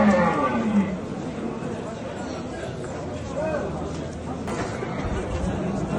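Cattle and bulls mooing amid the noisy Kattaqo'rg'on livestock market in Uzbekistan, with a crowd's chatter and voices running throughout.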